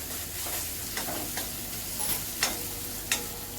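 Masala sautés in oil while a spoon stirs it, producing a soft continuous sizzle broken by a few sharp metallic scrapes and taps against the pan, close and fairly quiet with no voices.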